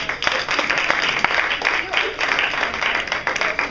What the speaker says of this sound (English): Round of applause for our reader.